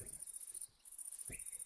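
Crickets in a forest clearing in the Minecraft video game chirp in a continuous high, pulsing trill with a short break, while soft low sounds pass underneath; faint and steady, with no speech.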